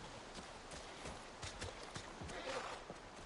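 Horse hooves in The Last of Us, a soft run of repeated clip-clop thuds over a steady ambient background, moderately distant, with no talk.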